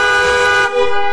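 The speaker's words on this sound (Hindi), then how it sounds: "तो आज आपके लिए आया हूँ मैं बेस्ट हॉर्न। देखिए इसका साउंड बहुत ही पावरफुल है" A powerful electric horn made for bikes, scooters and cars blares in one continuous loud, bright tone, with a brief dip near the end, close and with no talk.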